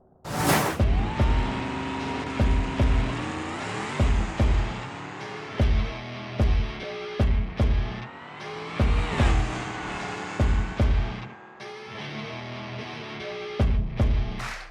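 A Bruckell Moonhawk in the BeamNG driving game accelerates hard on a drag run, its engine note climbing through repeated gear shifts, each rise broken by sharp, evenly spaced shift cuts, loud and close throughout.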